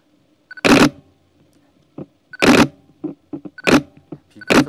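A Nikon D5 DSLR shooting in low light with the room lights off, its shutter firing in sharp loud clacks spaced about a second or two apart, with faint softer mechanical ticks between them and no voices.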